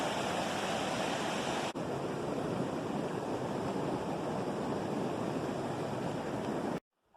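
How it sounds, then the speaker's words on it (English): A river in the North Cascades rushing steadily along, a loud, continuous broadband wash of water that holds nearly constant before cutting off abruptly near the end. "Alright, well there's the river."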